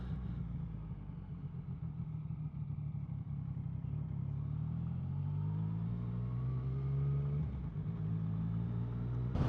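A KTM 1290 Super Adventure motorcycle cruises a long straight road in rural Spain, its engine a steady close droning rumble with wind roar and a slight pitch shift near the end, no talking.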